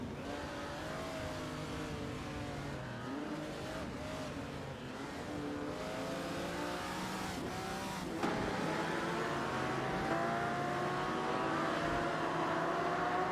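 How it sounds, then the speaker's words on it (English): Vintage supercars race at Spa in a racing simulator, with engines whining and shifting pitch continuously as cars rev and accelerate, one steady loud layer of motor noise with no voices. "We are currently watching a thrilling race in the racing simulator."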